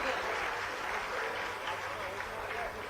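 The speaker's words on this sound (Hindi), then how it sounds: "जोरदार तालियां इस अलौकिक प्रकाश पुंज के प्रज्वलन के।" Audience applause at a ceremonial lamp lighting during a tree-planting campaign event, steady dense clapping filling the whole stretch at an even level, with no clear break.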